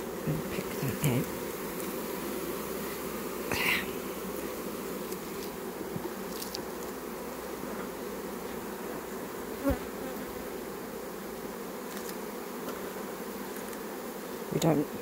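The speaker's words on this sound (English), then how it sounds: "There is plenty of bees." A honey bee swarm buzzing steadily around hive boxes outdoors, a dense continuous drone with a few closer bees briefly passing by the microphone.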